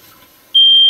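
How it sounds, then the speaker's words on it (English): Smoke detector set off by test smoke spray, starting halfway through with a sudden, loud, continuous high-pitched electronic tone after a quiet lead-in. "So we just put it up here to the smoke detector"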